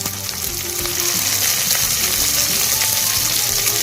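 Chicken pieces with chopped capsicum and green chillies sautéing in a pan for a spicy chicken curry, giving a loud, steady, close frying hiss throughout, faintly under background music with no talking.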